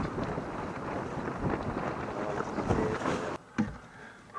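Strong wind buffeting a microphone on a beach, a steady roaring rush with gusty swells that briefly drops out near the end.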